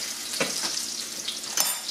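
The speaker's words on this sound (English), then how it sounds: "let it cook for 3 minutes on each side until it's crispy and nicely done on the other side" A Polish-style pork chop sizzles and crackles steadily in a hot frying pan, a close, bright, continuous fry with a few louder pops and no talking.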